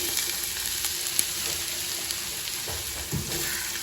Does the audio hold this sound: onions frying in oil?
yes